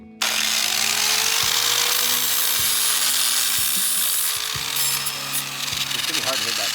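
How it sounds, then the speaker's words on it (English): An angle grinder working metal on a drift trike brake bracket gives a loud, steady grinding roar with a constant high whine. It runs almost continuously for several seconds, with slight dips in pitch as pressure changes. "then we're gonna grind it down so this guy here can weld the bracket here"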